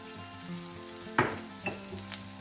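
Brown sugar with a pinch of salt caramelises in a frying pan for a steak sandwich, giving a quiet, steady sizzle broken by a few sharp clicks and scrapes from a utensil. No one speaks.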